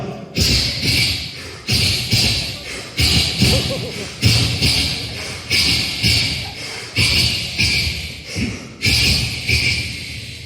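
A performer vocally imitates a subway train at a reunion sports-day show, producing a steady series of rhythmic thumping, hissing pulses roughly every second, like wheels clacking over track joints, loud and close.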